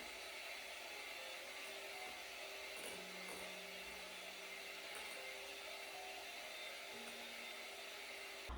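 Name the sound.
hand mixer whipping bath butter soap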